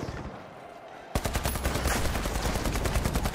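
An AKM fires in the video game The Finals, starting suddenly after a second of quiet with a rapid, loud, steady stream of automatic shots that keeps going to the end.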